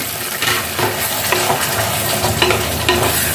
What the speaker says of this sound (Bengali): এটা বেশ কিছুক্ষণ করে নিতে হবে রান্না, 5 মিনিটের মতো এটা ভাজতে হবে